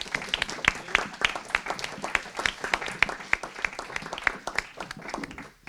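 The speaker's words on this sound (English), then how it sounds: "Let's give a warm round of applause to Bruno." A seminar audience gives a warm round of applause after a talk, with many hands clapping in a fairly even rhythm, close and moderately loud, fading near the end.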